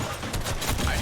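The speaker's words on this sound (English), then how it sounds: "I got sniped at." Dense, rapid gunfire erupts in a Fortnite arena match, with a loud burst of shots and sniper fire that runs continuously for about a second and crowds out everything else.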